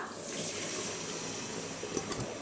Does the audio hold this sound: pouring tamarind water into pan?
yes